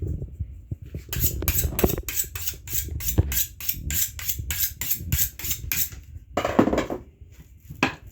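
A sharp knife slicing a diced onion on a cutting board, a steady series of crisp knocks and chops at a quick even rhythm, close and fairly loud with pauses.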